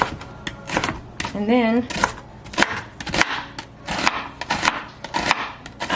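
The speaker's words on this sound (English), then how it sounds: "So let me just chop this onion really quickly." A knife chops an onion on a cutting board in a steady series of crisp, close taps, with a person talking briefly over the cutting.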